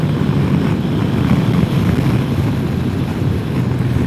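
A 2022 Kawasaki Versys 1000 SE LT+ accelerates in sport mode, heard as a loud, steady rushing roar of engine and wind buffeting close to the rider, with no voices.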